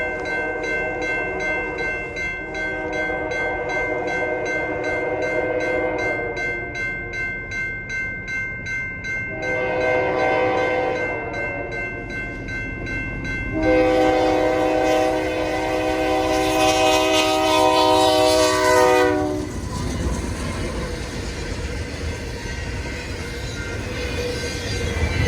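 A high-priority freight train passes in the Twin Cities in winter, its horn blaring in long chord blasts over the rumble and rolling clatter of the railcars, loud and close throughout.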